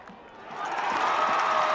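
Crowd noise swells into cheering at a high school football game between the Dripping Springs Tigers and Canyon Cougars, rising from a low murmur to a sustained roar after a fumble on the turf.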